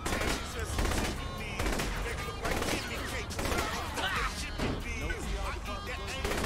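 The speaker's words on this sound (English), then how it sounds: "they like to shoot everything" Rapid bursts of gunfire in the video game Saints Row the Third rattle continuously, loud and near, with a voice talking over the shooting.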